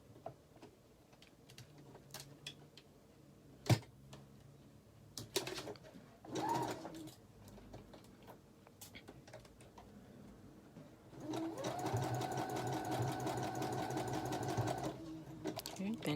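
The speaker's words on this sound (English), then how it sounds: "I tend to just do a zigzag stitch to sew my elastic in place" A sewing machine runs a zigzag stitch over elastic, first in short stop-start bursts with clicks and handling noises, then in one steady, close whirring run of several seconds. No one talks.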